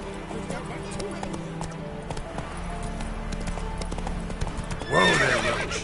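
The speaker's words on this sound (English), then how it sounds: "Whoa there, Roach" In The Witcher 3, a horse's hooves clop rhythmically under background game sound and speech, and a whinny rises near the end.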